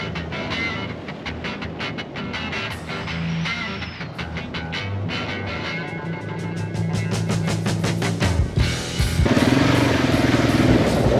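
Motorcycle riding through the Peruvian desert on a long-distance trip, engine droning steadily throughout with changing pitch and rising louder toward the end, wind and road noise mixed in, no talking.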